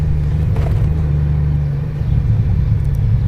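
Motorcycle cruising on an open road with the rider wearing a half helmet: a loud, steady engine rumble mixed with wind buffeting, continuous and close, with no talking.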